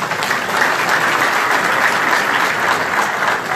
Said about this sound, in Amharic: የአሁኑ ጭብጨባ ለአብይ የለውጥ አጀንዳ የተሰጠ ድጋፍ አይደለም።